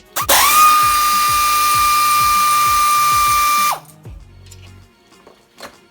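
A high-pitched power tool with a 13 mm socket whines loudly for about three seconds on a 2009 Porsche Cayenne front brake caliper bolt, rapid clicking underneath, then cuts out, leaving faint clinks and handling noise.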